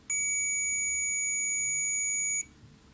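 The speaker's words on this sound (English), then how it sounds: "you can use a diode tester" A diode tester gives a single sustained, clean electronic beep lasting over two seconds, confirming continuity across a solder joint on the DC power socket of a Tascam Portastudio 414 MkII 4-track; the tone then stops abruptly into quiet room hiss.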